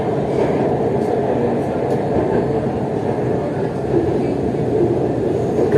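An Orange Line metro train in Lahore rumbling steadily at close range, a continuous low roar with a faint hint of rolling rail noise and no clear talking.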